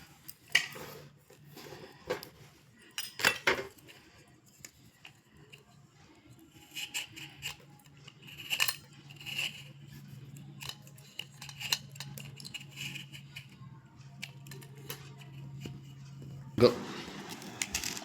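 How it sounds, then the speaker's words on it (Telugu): A raw green mango is peeled and cut with a knife, giving close, faint scraping and clicking strokes at an uneven pace, with a person talking at intervals. "ఫస్ట్ అయితే ఇలా మామిడికాయ కోసి దీనికి మనం పీల్ చేసుకోవాలి."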